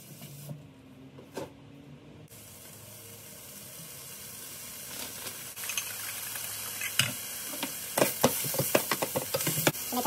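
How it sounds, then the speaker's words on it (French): Olive oil heats in a frying pan, with a soft hiss that slowly builds into sizzling and is dotted with sharp crackles and clicks toward the end. "Donc j'allume la poêle."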